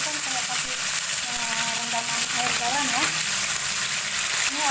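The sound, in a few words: torch ginger frying in oil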